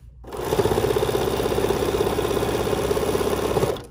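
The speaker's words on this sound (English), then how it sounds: "And then lower my presser foot and stitch." A sewing machine runs with its presser foot lowered, stitching fabric in one continuous burst of fast, rhythmic mechanical whirring, close and fairly loud, beginning and ending abruptly.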